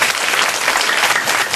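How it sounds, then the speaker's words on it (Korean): Audience applause at a business seminar, a dense burst of close clapping filling the whole short moment. "다시 한 번 박수 부탁드릴게요."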